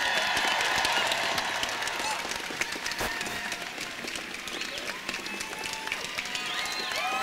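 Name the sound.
crowd applauding at climate strike rally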